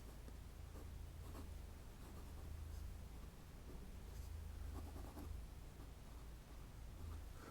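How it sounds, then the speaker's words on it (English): A Pelikan fountain pen with a fine nib scratches steadily across Tomoe River paper, a faint, close, continuous scratching with a low hum underneath and no talking. "I'm writing at a little different angle, so it's hard for me to write."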